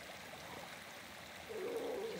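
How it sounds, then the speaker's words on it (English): Water from a river stream flows with a soft, steady broadband wash at low volume, a faint tonal hum creeping in during the last second and no voices heard. "Listen to the waves, listen to the stream"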